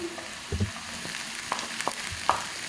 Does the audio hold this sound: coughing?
no